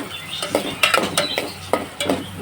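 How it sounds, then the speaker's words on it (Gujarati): Roasted eggplant bharta being tempered in hot oil with fried chilies, giving a steady crackle of frying broken by several sharp clinks and scrapes of a spoon stirring against the pan. "હવે ઓળાનો આપણે વઘાર કરી નાખવી"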